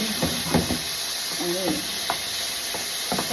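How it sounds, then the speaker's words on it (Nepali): Vegetables sizzle steadily in a frying pan while being stirred, with a soft constant hiss and a few scraping stir strokes. A person speaks briefly over the cooking. "अनि त्यतिकै स्टिर गऱ्यो अब रेडी?"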